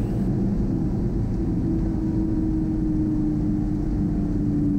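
Light aircraft rolling out on the runway under braking after landing, a steady loud engine and road drone with a faint whine, no voices.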